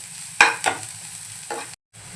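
Chopped onions are being stirred and sautéed in a pan for a Malvani-style French bean dish. Soft sizzling runs under several sharp scrapes of a spoon against the pan, then the sound cuts out briefly near the end.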